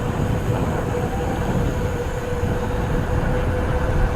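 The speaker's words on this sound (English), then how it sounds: "I will tell you the first thing out of the box, this motor is pretty noisy." A CYCROWN Dremax commuter e-bike hub motor whirs steadily under riding, with a constant mid-pitched whine over broad road and wind rumble, loud and continuous with no talk.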